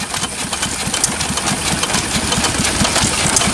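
An old stationary engine at the Fall Jacktown Engine Show runs on a weak ignition battery, thumping close and loud in a quick, steady knocking rhythm under constant outdoor noise.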